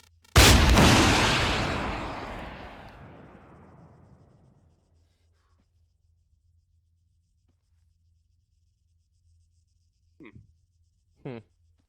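A missile fired from a Havoc attack helicopter in a military realism video game bursts out in one loud, roaring whoosh that trails off over about four seconds, followed by near silence and two faint, short blips.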